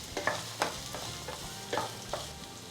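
Onions sauté in a pan on a lowered flame for chayote chutney. A soft steady sizzle carries through, with a spatula stirring and scraping every half second or so, and no talking.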